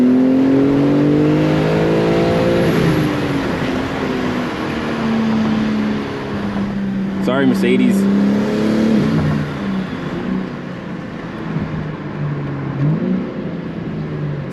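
A BMW G80 M3 engine revs and accelerates up through the gears, the pitch climbing and dropping in repeated sweeps, loud and close with a brief voice partway through.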